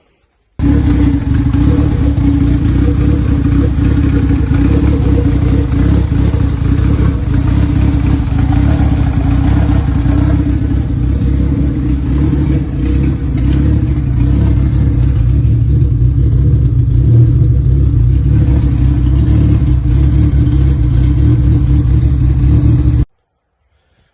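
A Honda Civic EK's B16 engine with a stock camshaft idles steadily and loudly at close range for over twenty seconds, with a low rumbling drone and no talking.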